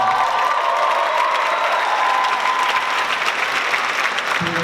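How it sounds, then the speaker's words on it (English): A dense, loud round of applause from a welcome-event audience of faculty, staff, students and families rolls on continuously with faint cheering mixed in. "Give yourself a round of applause"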